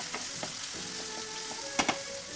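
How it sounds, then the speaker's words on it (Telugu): Chopped vegetables fry in a pan with salt and turmeric, a soft, even sizzle broken by light spatula taps and two sharper knocks near the end, close by with no one speaking. "ఇది కొంచెం కలిసేంత వరకు కలిపేసుకొని బాగా వేగనించాలండి."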